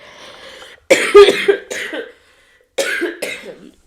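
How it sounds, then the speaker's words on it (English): A series of harsh coughs in two clusters, close and loud, with a brief quiet gap between the fits. "I should probably mute myself when I start coughing."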